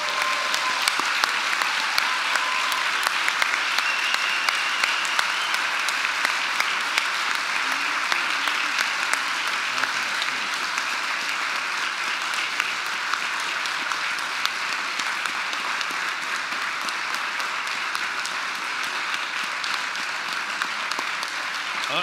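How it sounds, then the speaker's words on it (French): An audience at a Quebec Liberal Party general council award ceremony applauds steadily and loudly for the whole stretch, a dense, even wash of clapping with no break. "On l'applaudit bien fort."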